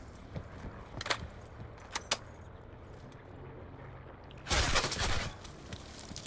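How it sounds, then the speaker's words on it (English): Gunfire in a video game: a few sharp isolated shots, then a denser burst of rapid fire near the end, moderately loud over a steady background bed. "See him shooting at me?"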